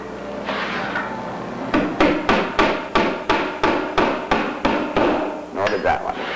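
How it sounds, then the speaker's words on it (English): A hammer drives nails into a plywood jig table, about a dozen sharp, evenly spaced blows ringing out loud and close, each with a short decay, followed by a few quicker softer taps. "That nail felt like it missed. So we're going to go again. That one did not miss."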